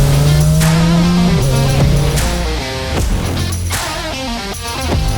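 Ferrari 430 Scuderia engine revving loudly and continuously, with tonal harmonics that climb and shift through several pitch changes, sharp gear-change-like breaks, and a steady roar throughout with no talk.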